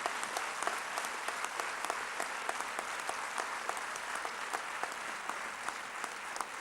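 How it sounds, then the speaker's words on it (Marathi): A large audience at an award ceremony claps hard and continuously for a guest on a stretcher, a dense, even roar of applause with no voices above it. "आपण सगळ्यांनी इतक्या जोरात टाळ्या वाजवा की त्यांना तिथे ऐकू जातील"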